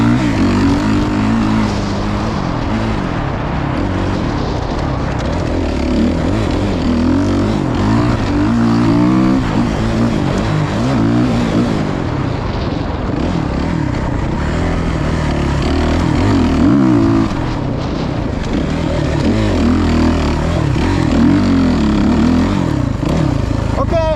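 A Suzuki RMZ450 dirt bike fitted with an RMZ250 KYB shock is ridden, its engine roaring loud and close throughout, rising and falling with throttle and gear changes.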